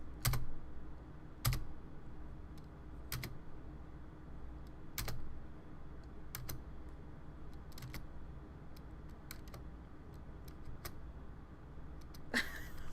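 Keys clack on a computer keyboard during play of Night in the Woods: scattered, irregular clicks and taps, fairly faint, over a low steady background hum.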